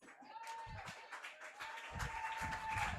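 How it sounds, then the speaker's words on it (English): A baseball crowd at a Buffalo Diesel versus Batavia Muckdogs game applauds, a spread of scattered clapping heard at a distance beneath a commentator talking. "Applause"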